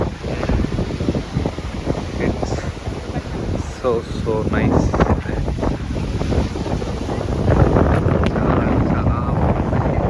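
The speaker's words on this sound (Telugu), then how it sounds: "ఈరోజు అలలు కూడా అన్నీ చాలా ఎక్కువగా ఉన్నాయి." High ocean waves wash in at English Bay beach in Vancouver, a broad continuous surf roar mixed with gusty wind buffeting the microphone, while people talk nearby throughout.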